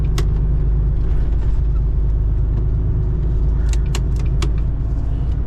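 A GAZelle van passes close by on a busy road, its engine a steady low rumble under continuous traffic noise, with a few brief rattling clicks near the end and no one speaking.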